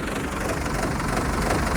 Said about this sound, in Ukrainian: зараз трішки потарактив нехай і будемо їхати кататися, прогрівати двигун